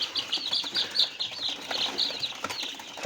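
Chicks and chickens on a farm chirp and peep in a dense, continuous chorus of high calls, close and moderately faint, with a few clucks underneath.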